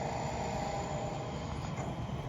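Digital sound from an HO scale 19K/25T passenger car model, mimicking a pump car sucking air during sewage suction: a steady, faint, even rushing drone with no breaks.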